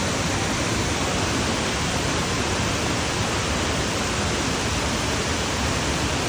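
Middle Falls on a hiking trail roars as a constant, loud, broadband wash of falling water that fills the whole stretch with no talking.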